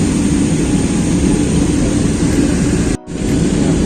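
Steady, loud broadband roar of a passenger airplane cabin as the jet descends toward landing, a constant engine and airflow rush with one brief dropout near the end.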